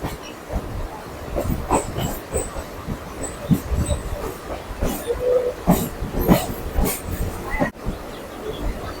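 A Kolkata local train on the circular rail line running on after leaving New Alipore station, with loud, close rhythmic clickety-clack of wheels over rail joints, bursts of hiss and brief wheel squeal, and no talking.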